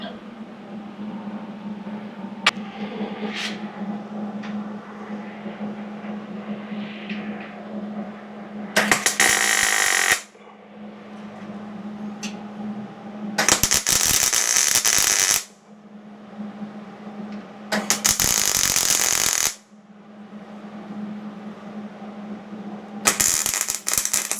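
A MIG welder lays short tack welds while building a tool for a 4L60E transmission rebuild: four loud crackling buzzes of one to two seconds, separated by quieter shop hum.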